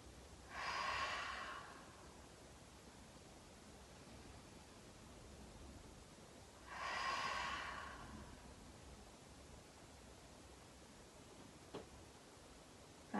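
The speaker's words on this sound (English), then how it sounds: "So inhaling through the nose, exhale out through the mouth" Slow yoga breathing, in through the nose and out through the mouth: two long airy breaths about six seconds apart, close and soft over a quiet hiss, with no talk.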